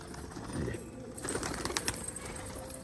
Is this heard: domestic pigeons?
yes